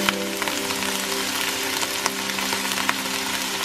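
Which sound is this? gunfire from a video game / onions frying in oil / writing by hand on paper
onions frying in oil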